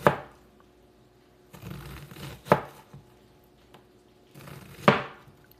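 An onion is finely chopped with a knife on a cutting board for guacamole, with a few separate sharp knocks and short bursts of cutting, close and fairly clear, with quiet gaps between them.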